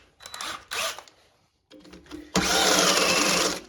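A power drill bores through metal during a Ford engine swap in a workshop, with short whirring bursts at first, then a sustained loud grinding drill run through the final second and a half.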